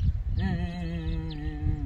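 A person imitates a male ostrich's mating call with a low, droning hum that rises into a sustained tonal groan, close and alone.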